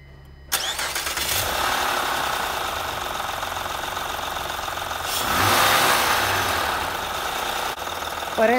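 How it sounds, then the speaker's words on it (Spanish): A 2007 Honda Odyssey 3.5 engine cranks and catches, then idles steadily and loudly up close, rising briefly in a rev before easing back down, with no voices. "Pero vamos a prender el carro a ver qué ruido hace."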